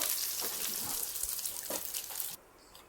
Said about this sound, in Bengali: কারি পাতা আমি দিয়ে দিলাম কারি পাতাটা দিয়েও আট থেকে দশ থেকে ফ্রাই করে নেব